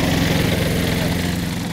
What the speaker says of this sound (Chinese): 轮胎碾压地上碎石子的声音提醒我们，雪云城堡主人蔡雪云来了